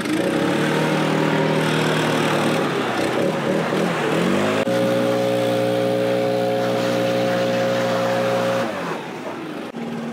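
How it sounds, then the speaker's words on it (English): A small gas engine of a backpack leaf blower drones loudly and steadily, its pitch rising as it revs up, then easing back near the end. "Who's running the blower?"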